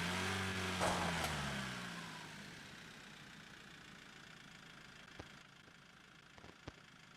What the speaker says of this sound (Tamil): வண்டி ஸ்டார்ட் ஆயிடுச்சு